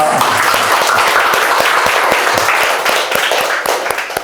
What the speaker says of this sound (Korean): 제가 전국으로 강의를 다니지만 이렇게 우람한 박수는 안 돼.